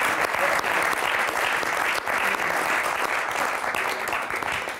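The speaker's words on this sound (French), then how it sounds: "Je vous demande un tonnerre d'applaudissements pour y avoir participé" A studio audience on a French TV magic show bursts into steady, full applause after a card trick, many hands clapping in a dense, sustained wash that stays loud throughout and tapers slightly at the end.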